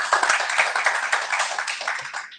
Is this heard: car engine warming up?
no